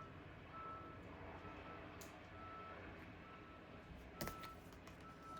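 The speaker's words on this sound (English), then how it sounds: "Listen to the backing up truck, right? They're coming back around. Right? The beeping, backing up." Faint, distant reversing beeps from a truck repeat steadily over a low background rumble, with a soft clatter near the end.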